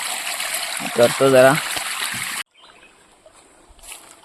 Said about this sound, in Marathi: हे पाणी उडतंय अंगावरती